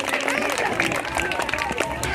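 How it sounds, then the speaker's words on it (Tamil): An audience claps for preschool children at a preschool sports event, a continuous, fairly loud patter of applause mixed with crowd chatter and shouts from a nearby gathering. "எங்கே இந்த சிறார்களுக்கு மீண்டும் உங்கள் ஒரு கரகோஷம்"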